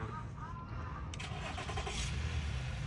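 A car engine cranks and catches, a low rumble settling into idle at close range, with a faint voice briefly heard over it outdoors on a cold evening.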